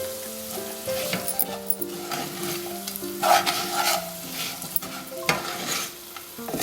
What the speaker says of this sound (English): Continue to stir from time to time so that the corn grit does not stick to the pan.